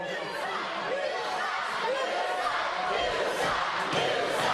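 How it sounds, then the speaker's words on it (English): Loud, sustained roar of a capacity crowd at a live professional wrestling event, dense cheering and yelling that fills the whole stretch with no letup. "listen to this. This capacity crowd is on absolute fire tonight."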